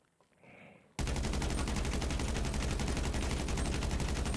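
Sustained automatic gunfire in a video game, a full magazine emptied in one unbroken rapid burst that starts abruptly after a second of quiet and stays loud and dense to the end.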